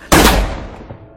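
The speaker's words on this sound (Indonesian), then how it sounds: "Siun pun langsung ditembak jantungnya hingga tewas" One loud, close gunshot rings out in a zombie horror film, a sharp blast followed by a decaying echoing tail lasting about a second.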